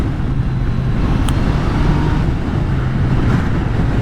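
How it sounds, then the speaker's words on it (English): Riding a 2018 Yamaha NIKEN three-wheeled motorcycle, with steady engine and road noise mixed with heavy wind rush across the microphone, continuous and close throughout. "We're back riding on this Yamaha NIKEN 2018 model."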